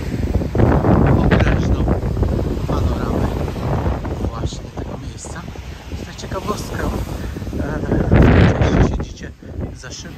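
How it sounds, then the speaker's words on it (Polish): Heavy wind buffets the microphone in a continuous low roar at an open spot on Hel, Poland, with the gusts growing louder near the end. "Trochę ten wiaterek nam przeszkadza"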